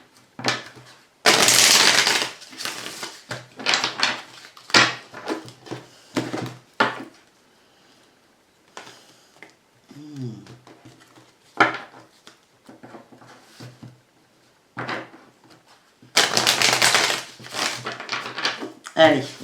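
A deck of tarot cards is shuffled in repeated bursts of papery riffling and slapping, loud and close, with a voice speaking between the shuffles.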